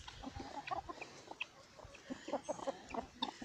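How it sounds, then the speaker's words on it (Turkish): A hen and a rooster cluck in a yard, short scattered clucks and squawks coming close and fairly loud in irregular bursts, with no talk. "Bu tavuğu, bu da horoz oluyor."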